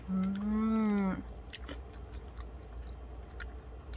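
Chocolate granola being chewed near the mouth, faint crunchy bites and soft chewing following a brief hummed voice at the start.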